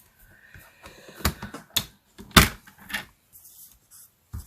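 Paper trimmer slicing through cardstock for a Stampin' Up! side shutter fold card, heard as a few sharp, close swishing cuts and clicks with quiet handling between them.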